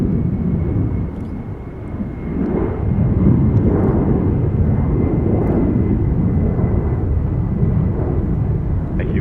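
Atlas Air Boeing 747-400F heavy freighter taking off at Miami, its jet engines roaring as a loud, broad, sustained rumble that swells and holds, heard alone without talk.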